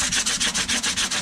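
Cured cyanoacrylate on fiberglass gelcoat being sanded by hand, steady rhythmic back-and-forth rasping strokes, close and moderately loud, about eight strokes in quick succession.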